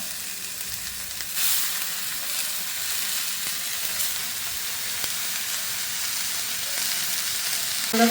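Grated beetroot added to browned grated coconut in a hot pan, where it sizzles loudly and hisses, with light stirring and utensil taps continuing throughout.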